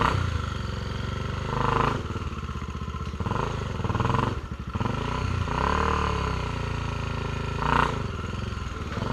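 Honda Tornado motorcycle engine revving, repeated throttle blips swelling and dropping over a rough, throbbing idle, close and loud.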